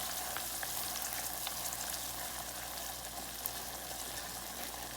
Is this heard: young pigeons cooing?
no